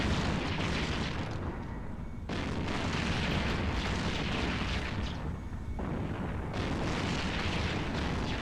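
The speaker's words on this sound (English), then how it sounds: "Oh yeah, they're shooting missiles at me." Missiles strike a ship in the space video game EVE Online, heard as continuous heavy rumbling booms and blasts that swell and drop in waves across the whole stretch.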